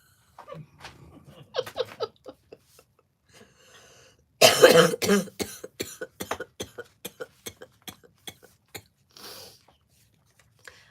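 A loud burst of coughing, then a series of sharp, short clicks or taps at a steady rhythm, fairly close.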